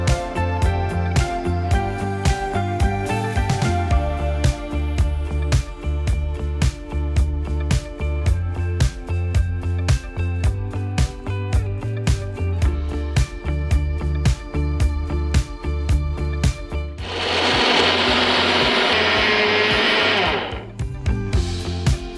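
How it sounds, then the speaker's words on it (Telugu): Electric mixer grinder running for about four seconds, a loud, steady whirring burst as roasted tandai ingredients are ground, set over continuous background music. "నెక్స్ట్ ఇంకా మనం స్టవ్ ఆఫ్ చేసి దాన్ని మిక్సీ పట్టేయాలి."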